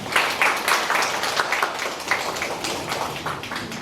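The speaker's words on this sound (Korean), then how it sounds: "박희주 동구청장님을 큰 박수로 모시겠습니다" Audience clapping at a Korean district office's 2025 high school admissions and career information session for middle school students, as the district head is welcomed on stage; steady, fairly close applause for about four seconds with no talk.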